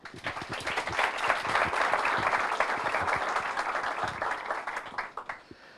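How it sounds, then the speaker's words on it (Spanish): An audience at a Globant Development Week event in Resistencia breaks into dense, sustained applause that swells quickly, holds steady for several seconds, then thins into scattered claps at the end. "Aplauso, por favor."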